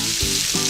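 Onions hiss in 20 g of melting butter in a pan still coated with beef juices from a beef stew. The sizzle is dense, steady and close, with no voices.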